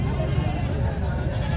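Goats at a crowded rural livestock market, with a heavy castrated billy goat on sale; bleating and animal noise sit within a dense, steady crowd murmur and overlapping voices throughout.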